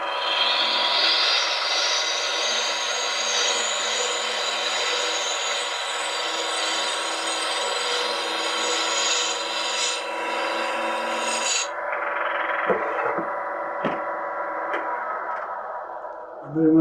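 Bowl gouge slicing a bead on spinning wood on a lathe, a steady, close rasping hiss that runs continuously for about twelve seconds, then drops to softer intermittent scraping with a few sharp knocks.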